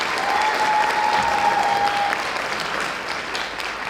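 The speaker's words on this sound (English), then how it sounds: "So one round of applause for those guys back there." Audience applause at a school spring jazz concert, a thick, sustained round of clapping at steady volume that slowly eases toward the end, with a faint tone ringing briefly underneath.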